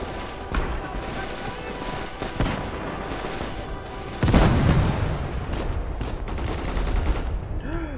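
Mortar fire and battlefield gunfire in Gates of Hell, with repeated booms, a heavy blast near the four-second mark and continuous rattling shots, loud and close with shouting voices over the combat.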